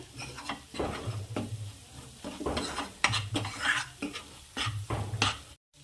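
Spoon repeatedly scraping and stirring through sizzling oil with turmeric and red chilli powder in a pan, rhythmic strokes with a steady frying crackle underneath.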